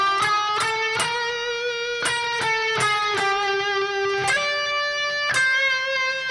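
Electric guitar plays a lick from a solo, with quick, evenly picked notes in a fast run followed by a few sustained, ringing notes. The guitar sounds close and bright, and no one talks over it.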